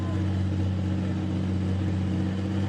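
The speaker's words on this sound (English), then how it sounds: "That thing sounds good. One big turbo under the hood." A turbocharged pulling tractor at a truck and tractor pull in Shippensburg gives off a steady, loud, deep engine drone. It holds at one pitch the whole time with a strong low hum and no clear revving.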